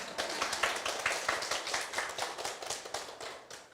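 An audience at a live lecture claps in a lively, fairly even rhythm. Individual claps are close and distinct, and the applause carries on for several seconds without talk over it.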